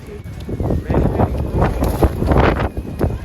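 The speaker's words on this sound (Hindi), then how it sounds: "इतना तेज हवा आया कि हम लोग ऐसे धक्का लग गया हम लोग को" Strong wind gusting outdoors on a London street, buffeting the microphone with loud, continuous rushing noise that swells and dips for the whole stretch.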